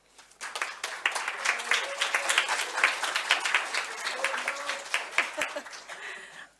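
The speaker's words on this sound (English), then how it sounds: "So a huge round of applause for Yop" Audience applause at an education conference swells quickly from silence, with individual claps distinct within a moderately sized crowd, and fades out toward the end.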